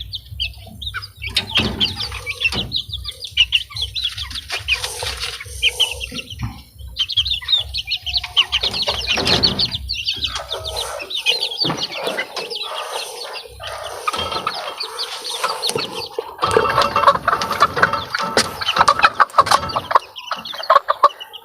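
A flock of healthy one-month-old Bulik chickens clucks and chirps close by. Busy overlapping calls mix with brief bursts of wing flapping and scratching.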